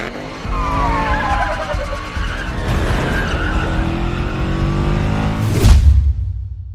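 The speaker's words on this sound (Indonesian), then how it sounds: "Davis mengemudikan mobil dengan sangat ugal-ugalan" A car driven recklessly in a film chase scene, with sustained squealing, skidding tires over a roaring engine, ending in a sharp loud jolt or impact before fading.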